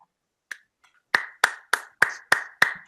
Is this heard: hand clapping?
yes